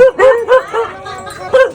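Several short, high-pitched dog yips and barks in quick succession, close by, with brief pauses between bursts.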